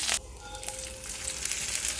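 Mustard seeds, urad dal, dried red chillies and curry leaves sizzle as they are tempered in hot oil in a pan for capsicum chutney, with a sharp hiss at the start easing into a steady, close frying crackle.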